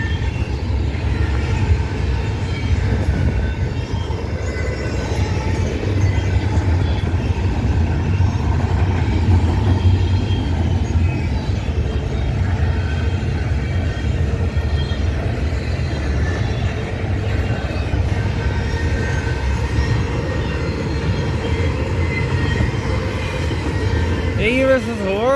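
A CP freight train rolls past in Maple Creek, Saskatchewan, a loud, continuous rumble of wheels and railcars with faint squeals, steady throughout and close by.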